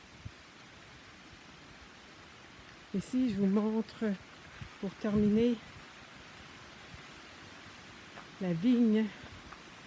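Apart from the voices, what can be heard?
rain falling in a garden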